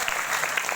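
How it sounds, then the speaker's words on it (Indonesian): Students at a high school talk show on democracy applaud together, a steady wash of clapping filling the brief moment without voices. "Tepuk tangan dong untuk kalian semua."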